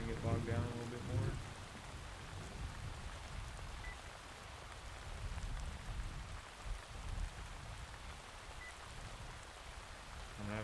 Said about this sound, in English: Rain's starting to pick up.